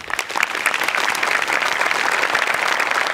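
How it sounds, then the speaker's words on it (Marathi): Dense, steady applause from a studio audience at a comedy show, loud and close, sustained clapping with no gaps for about three seconds. "तुमच्या दोघांसाठी टाळ्या व्हायला पाहिजे"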